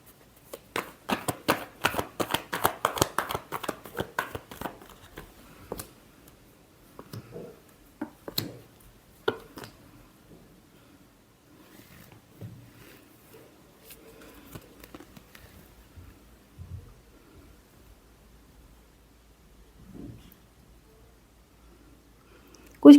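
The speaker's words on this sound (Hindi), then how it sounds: "Last shuffle." Tarot cards riffled and shuffled close up, a dense run of crisp flutters for several seconds, then a few scattered taps and soft card handling in a quiet room.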